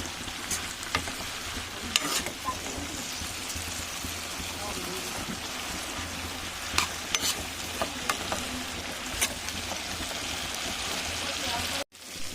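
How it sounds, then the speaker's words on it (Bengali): Pui shak mituri stirred in an uncovered pan, a dense continuous sizzle with occasional spatula knocks and scrapes, close and steady, ending in a brief drop to silence. "আমি ঢাকাটা খুলে আমরা একটু নেড়ে দেবো।"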